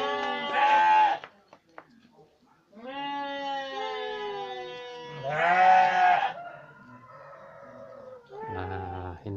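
Goats bleat in a village group's goat pen in Dusun Jombang: several loud, wavering calls come in bursts with short gaps, close by and without talk.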